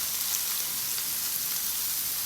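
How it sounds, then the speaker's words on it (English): Steady, dense sizzling of aubergine frying in a hot pan, a continuous crackling hiss with no talking. "Did you hear that? Sizzle, sizzle."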